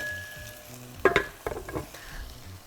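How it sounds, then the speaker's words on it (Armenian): Chicken pieces fry quietly in a pan with a soft sizzle, broken by a few sharp clatters and scrapes of a utensil midway, fairly faint and close. "հավը տապակվում է"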